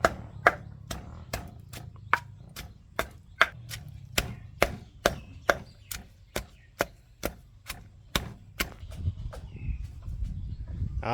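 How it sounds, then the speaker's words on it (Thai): Garlic and shallots pounded in a mortar for a red chili jaew dip: a steady run of sharp, evenly spaced thuds at close range, roughly two per second, over a quiet low background. "ขอยยังไปตำกระเทียมหัวหอม"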